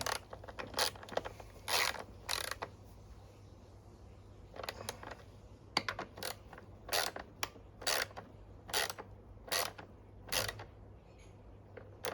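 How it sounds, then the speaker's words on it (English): Ratcheting wrench tightening 10mm bolts on a Mountfield V35 lawn mower, a series of close, rapid metallic clicking bursts in repeated short runs with brief pauses between. "Just going to tighten these 10mm bolts down here"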